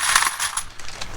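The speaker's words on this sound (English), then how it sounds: "take the keys out of the bag" Metal keys tipped from a bag into a tray give a short burst of bright jangling and clinking, several overlapping metallic taps close by, with no voices.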